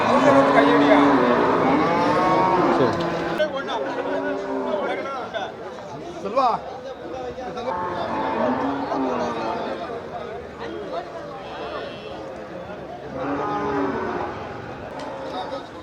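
Cattle moo repeatedly in long, drawn-out calls, loud and near, over a background of people chattering in a busy crowd at the Melapalayam cattle market.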